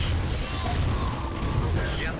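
Artillery fire in the game Red Alert Remastered, a dense continuous rumble of blasts and crackling gunfire, loud and unbroken throughout.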